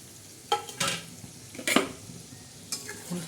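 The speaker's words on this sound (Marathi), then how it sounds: "छान असं कारले आता आपण हलवून घेणार आहोत" Bitter gourd being stirred in a hot spiced tempering, giving a few distinct scraping stirs of a spoon against the pan over a soft, steady sizzle, close and fairly quiet.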